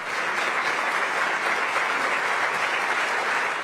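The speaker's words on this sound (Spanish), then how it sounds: "el público lo recibió y lo despidió con una fuerte ovación" An audience gives Banco de la República manager Leonardo Villar a loud, sustained ovation, dense applause with no break from start to end.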